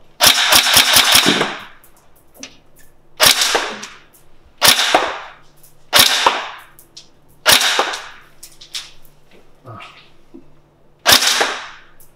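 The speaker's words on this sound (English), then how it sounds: "The gun should continue to fire now and not hold open." A Tokyo Marui NGRS airsoft rifle fires, starting with a quick burst of sharp cracks and then single loud, close shots spaced a second or two apart, each with a short rattling tail.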